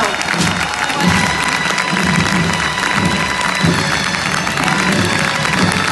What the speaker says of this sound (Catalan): Un fort aplaudiment per aquesta meravellosa muixeranga!